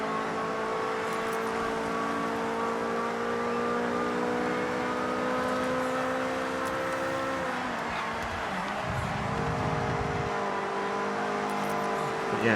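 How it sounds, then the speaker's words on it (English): A small inline-three all-wheel-drive car with 63 horsepower in Forza Horizon 6 hums and revs steadily, its engine tone holding then dropping and rising again as it shifts, loud and continuous with no talk over it. "Love the sound of this car as well. I think it's an inline 3,"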